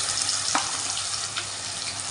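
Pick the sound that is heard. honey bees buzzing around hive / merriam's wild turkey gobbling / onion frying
onion frying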